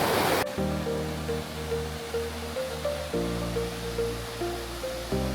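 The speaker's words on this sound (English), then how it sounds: "Water drops from a height of about 30 meters, or 100 feet, cascading down rocky ledges into a crystal-clear natural" Hixon Falls in BC pours about 30 meters down rocky ledges into a clear pool, giving a constant broadband rush of falling water under steady background music.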